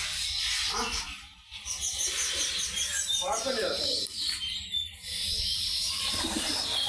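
Giribaj high-flying pigeons, one pair sitting on eggs in a loft, coo in low soft murmurs at close range, with brief chirps and a voice in the background.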